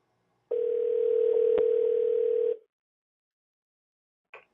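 A phone line ringing out while calling back a radio show caller, one steady ringback tone lasting about two seconds and then stopping, followed by a short faint click.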